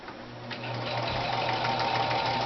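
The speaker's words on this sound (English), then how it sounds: "So run that through your machine." Sewing machine running steadily as it stay-stitches a bra strap during a nursing bra conversion, a close, continuous mechanical whir that builds slightly and holds without pause.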